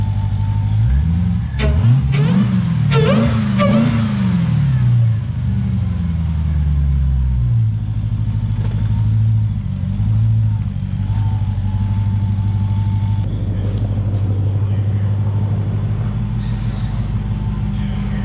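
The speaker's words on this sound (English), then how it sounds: "I'm gonna give you guys a couple of revs" A Jeep Trackhawk engine revs hard several times up close, with rising and falling bursts in the first few seconds, then settles into a loud, steady, rumbling idle inside a garage.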